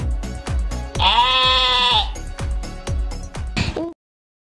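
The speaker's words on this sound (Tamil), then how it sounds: "செம்மறி ஆடு கத்தும்." A sheep gives one clear, wavering bleat up close, set against a steady thumping beat of backing music.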